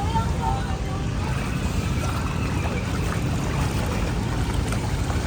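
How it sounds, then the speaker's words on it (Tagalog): Loud, constant rush of churning water, a heavy broadband wash with no breaks, as strong waves surge through deep floodwater on a flooded city boulevard and sidewalk in Manila. "malakas yung alon"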